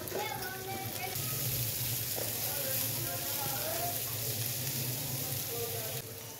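Shredded cabbage frying in oil with cumin seeds, a steady close sizzle and crackle that runs unbroken throughout, with faint clinks of a spoon.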